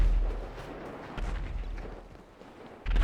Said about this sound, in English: I don't know why there's a lot of explosions